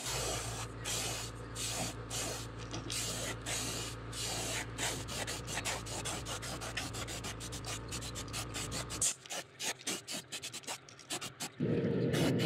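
Mr. Hobby Pro-Con 290 airbrush spraying silver sealer while painting a fishing lure, a steady close hiss broken by rapid on-off bursts before it stops, with a brief louder hiss returning at the end.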